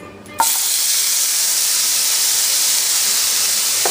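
Onions and jarred minced garlic sauté in hot oil in a wok, a loud steady hiss that starts abruptly and holds evenly throughout, with no talking.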